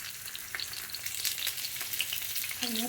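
Oil frying alu vadi (colocasia leaf rolls) in a pan, a steady broadband sizzle with scattered crackles and pops of splattering oil, close and continuous.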